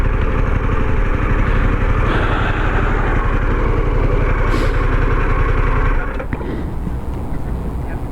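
A 2021 Harley-Davidson Pan America motorcycle engine idles close by with a steady, deep rhythmic throb, then cuts off about three quarters through, leaving quieter background noise.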